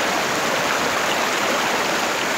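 River water rushing steadily in El Salvador, a continuous broadband wash of flowing current, close and fairly loud with no breaks and no voices.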